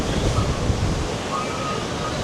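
Strong wind from Storm Therese roars across the Tenerife coast, a steady broadband rush buffeting the microphone with a faint high whistle threading through.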